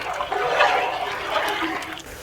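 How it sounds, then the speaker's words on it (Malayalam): Washed rice is poured into boiling salted water on the stove, giving a brief rushing, bubbling splash of water that stays fairly loud for a couple of seconds before easing off. "തിളച്ച് വരുന്ന വെള്ളത്തിലേക്ക് കഴുകി വെച്ചിരിക്കുന്ന അരി ഇട്ട് കൊടുക്കാം."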